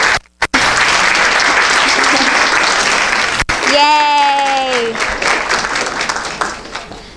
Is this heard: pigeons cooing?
no